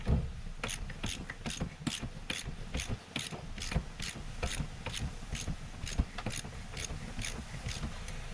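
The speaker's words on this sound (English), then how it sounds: "We get a little bigger ratchet." A ratchet wrench turns steadily while pressing a control arm bushing into place, giving a close, rapid series of sharp mechanical clicks at an even rhythm throughout, with a low rumble beneath and no talking.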